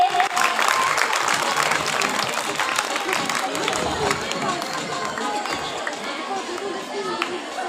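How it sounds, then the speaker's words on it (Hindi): Audience clapping steadily at a school prize-giving ceremony, a dense wash of applause with crowd murmur that stays loud throughout before easing slightly toward the end. "जोरदार तालियों से इनकी हौसला अफजाई कीजिए।"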